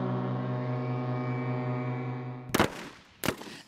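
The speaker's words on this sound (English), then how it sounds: "Here, foghorns, in a piece performed by ship's crews in Bergen," Ship foghorns played by crews in Bergen, Norway, as a musical piece sound a long, deep, sustained blast that stops abruptly, followed by two sharp cracking bangs.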